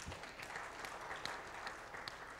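An audience claps in a steady, continuous round of applause, heard faintly from a distance with no voices over it.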